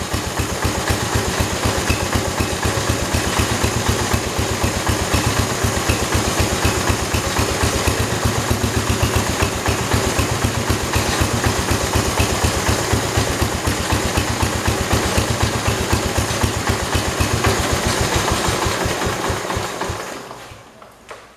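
A Kohler engine on a 1968 112 garden tractor idles with a steady, close, loud chugging rumble, then is shut off and dies away just before the end.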